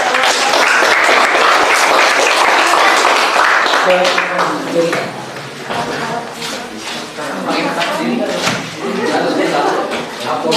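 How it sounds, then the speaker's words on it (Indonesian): An audience at a school presentation claps in loud, dense applause for a group about to present, with voices mixed in underneath as the clapping tapers. "Kita beri tepuk tangan untuk"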